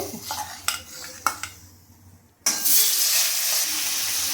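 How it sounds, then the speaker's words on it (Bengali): Chicken pieces drop into hot white oil in a wok, a few spoon and pan clinks giving way to a sudden, loud, continuous sizzle that holds steady to the end. "এখানে আমি চিকেনগুলোকে ভেজে নেব, অল্প অল্প দিয়ে নেব।"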